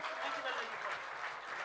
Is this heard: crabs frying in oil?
no